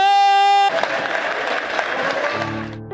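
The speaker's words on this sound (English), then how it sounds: "In first place, can I get a large round of applause for Ozone?" Crowd applause and cheering for a first-place winner at a dance competition, a broad burst of clapping that cuts in after a sustained tone and fades as music returns.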